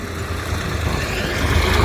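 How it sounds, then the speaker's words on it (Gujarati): A tractor pulls away after filling from a stone-picking machine's bin, its engine a steady low rumble that builds slightly toward the end, heard alone outdoors. "આ ટ્રેક્ટર જાય છે."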